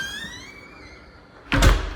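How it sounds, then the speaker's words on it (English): The heavy wood and glass front door of a luxury custom home swings shut with a single solid thud after a soft creaking slide, close and fairly loud. "I'm going to lock up behind me so we could have an uninterrupted tour"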